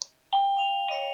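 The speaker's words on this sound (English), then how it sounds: "You heard the doorbell on the actual unit itself. You heard the inside unit chime" A wireless video doorbell is pressed once with a faint electronic ding. A moment later the indoor chime unit answers with a clear two-tone ding-dong that rings on and sustains, close and fairly quiet.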